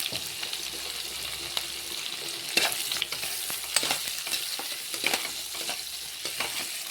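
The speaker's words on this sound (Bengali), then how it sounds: "তারপরে পেঁয়াজ দিয়ে দিলাম আমি এখানে। লাল লাল করে ভাজতে থাকবো ওগুলো।" Onions frying in hot oil tempered with cumin, a close steady sizzle with repeated scraping and stirring knocks from the spoon, no talk.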